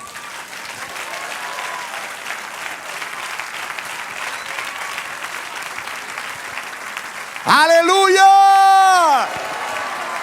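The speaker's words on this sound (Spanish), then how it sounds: "Denle un aplauso al Señor." Church congregation applauding loudly and steadily under a pastor's sermon, with shouts mixed in, then a voice rises in a sung or shouted exclamation near the end over the continuing clapping.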